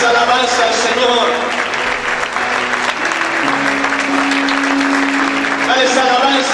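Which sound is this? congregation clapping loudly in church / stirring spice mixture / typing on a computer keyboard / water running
congregation clapping loudly in church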